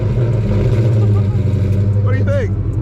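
A Ford Coyote V8 swapped into a Fox Body Mustang that sat for 25 years, running loud and close with a steady low rumble and a couple of quick revs near the end, with people talking over it.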